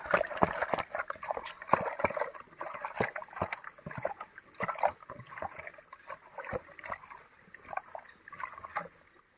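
Hands dipped repeatedly in water make wet splashes and sloshing close by, with irregular drips and dunking sounds repeating over several seconds.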